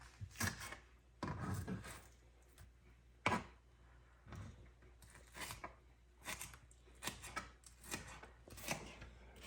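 A knife dices green onion on a cutting board for lemon garlic pan-fried basa, giving quiet, close, irregular chopping taps in short bursts with brief pauses between them.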